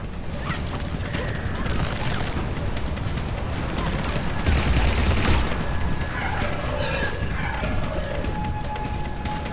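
Sustained firefight in Mass Effect Legendary Edition, dense continuous gunfire and mechanical clatter with a louder burst midway, weapons rattling over a busy combat soundscape.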